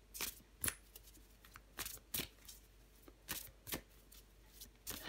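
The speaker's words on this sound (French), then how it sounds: "Je vais prendre encore une carte pour vous, les vierges." Tarot cards being shuffled and handled close up, a quiet series of irregular sharp riffling flicks and snaps, a dozen or so bursts spaced unevenly with soft room hush between.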